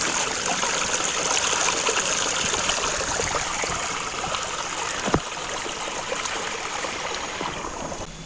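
Clear water flowing steadily at the Cikendi spring, a continuous bright rushing and trickling wash with a brief louder splash partway through, close and with no talk over it.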